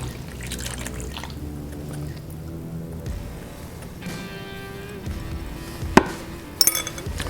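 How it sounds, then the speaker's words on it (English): Beef teriyaki marinade is poured over raw meat in a kitchen, a soft liquid trickle and splash lasting several seconds, ending with a couple of light clinks of a bowl or utensil. "and let's pour it over."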